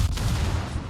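Battleship Nebraska's guns firing in a naval warfare video game: a loud, dense, continuous boom with heavy low rumble filling the whole second, no speech.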